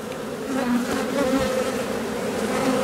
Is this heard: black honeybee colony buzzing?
yes